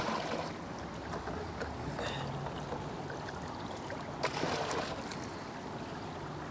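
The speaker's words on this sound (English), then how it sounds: "Now we'll grab the pan and wash it out." Water sloshes and swishes as a gold pan is washed out outdoors, continuous close splashing with a brief louder splash partway through, no talking.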